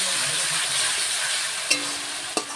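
Ginger, garlic and onion masala sizzles steadily in a pan for a chicken curry, a continuous close frying hiss broken by two brief clinks of a utensil against the pan.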